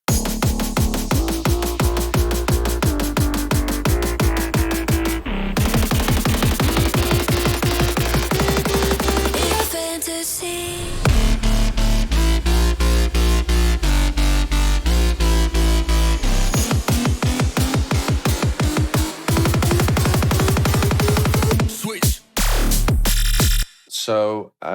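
Jump up drum and bass drop built in FL Studio, loud and dense, with a punchy, driving beat, heavy growling bass and a sweeping riser midway; it runs continuously before a brief break near the end, with no talking.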